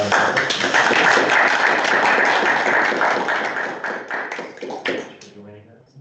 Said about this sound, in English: I just want to extend a round of applause for